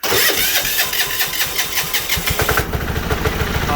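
A diesel engine, apparently a tractor or loader, cranks and fires up, settling into a loud, close, rhythmic idle with heavy chugging pulses and no talking.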